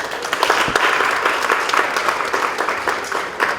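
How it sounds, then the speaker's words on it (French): An audience at a development association meeting in Makélékélé claps warmly. The applause is close, steady and full, with no talk over it, over a few seconds. "Applaudissez s'il vous plaît."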